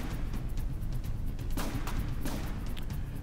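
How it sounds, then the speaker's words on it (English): Heavy cannon barrage slamming into a ship in the naval combat game From The Depths, a dense continuous roar of explosions with sharper bursts standing out, loud and sustained throughout. "the ship takes that big cram barrage and just goes up"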